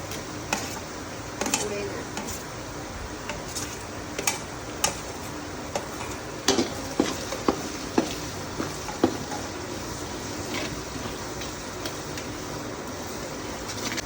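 Ginger-garlic paste and curry leaves frying with golden-browned onions for tadka khichdi, a steady low sizzle with sharp clicks of a spoon against the pan scattered throughout.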